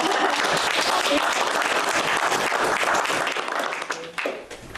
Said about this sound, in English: Nice round of applause.